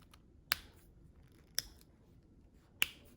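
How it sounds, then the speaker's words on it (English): Three sharp, isolated pops from a Zebra gel pen, with uneven gaps between them, crisp and close against near silence. "you have a pen that can make popping sound"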